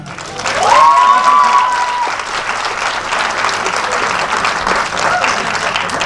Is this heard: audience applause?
yes